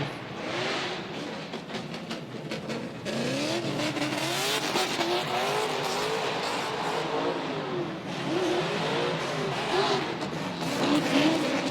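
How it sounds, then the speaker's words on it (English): A drift car on a rain-wet track at an RDS GP qualifying round in Vladivostok revs hard and loud, its engine note rising and falling through sweeping turns while tires squeal continuously. "And his drifting looks great."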